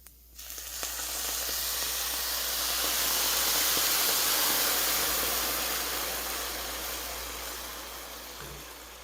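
Risotto rice toasting in a pan as white wine goes in, a loud, steady close sizzle that builds quickly and then slowly fades over several seconds, with no talking.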